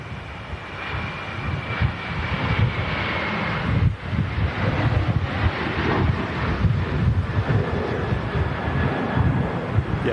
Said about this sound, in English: Huge gust again hitting us here at the RVP.